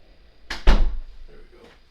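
A door is pushed shut indoors, giving a soft brush of movement and then a solid thump with a brief rattle afterward, fairly close and with no talk over it.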